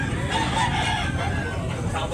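A rooster crows nearby at a poultry market in Tabunok, Talisay, Cebu, a loud drawn-out call over crowd murmur and other birds.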